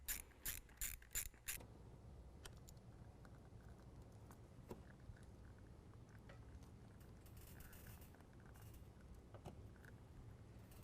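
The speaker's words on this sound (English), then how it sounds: "And then we can go ahead and tighten this down." An S&B cold air intake on a 2017 Ford F-250 Powerstroke is tightened down, opening with a quick run of close, rapid ratcheting clicks and then trailing into scattered light mechanical ticks over a steady hiss.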